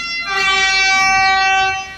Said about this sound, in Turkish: Bir çaldı. MT 15 bin kornası.